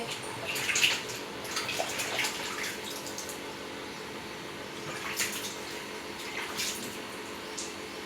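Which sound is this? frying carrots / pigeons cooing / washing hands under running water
washing hands under running water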